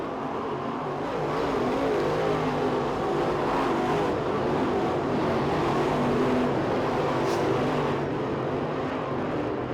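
Race cars in a Winter Nationals heat race roar continuously, a loud sustained engine drone of a full field circling, with no break in the noise.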